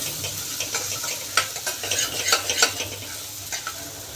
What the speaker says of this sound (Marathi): ह्याला पण चांगलं भाजून घ्यायचं आहे, लसणाचा वास जाईपर्यंत